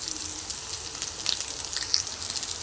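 Potatoes fry in spice paste in a pan, giving a steady soft sizzle with scattered crackles and pops throughout, close and moderately quiet.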